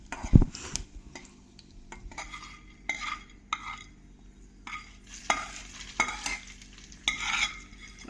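Broccoli is stirred into a hot ghee and chilli tempering in a pan, giving a crackling sizzle with repeated scraping spoon strokes and light clinks against the pan, close and fairly loud without any talk.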